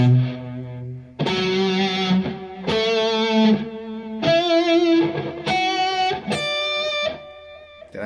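Distorted electric guitar plays a pentatonic arpeggio with one note per string, stepping upward through about seven distinct, close, loud notes, each ringing briefly into the next.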